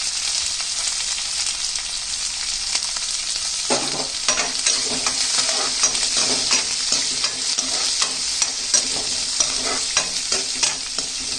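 Green chillies, onion and curry leaves hitting hot oil for shavige bath, a quiet simmer that jumps into loud crackling sizzle after a few seconds, with stirring scrapes continuing to the end.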